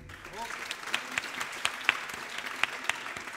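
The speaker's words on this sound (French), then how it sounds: "À chaque fois, vous avez le droit d'applaudir." Sparse applause from an audience at a concert combining baroque music and beatbox, with several sharp, separate claps rising over a voice talking through most of the clip.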